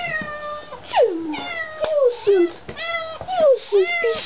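A cat greeting its owners after a long time apart gives several loud, drawn-out meows in quick succession, close and clear, with a person's voice briefly mixed in around them.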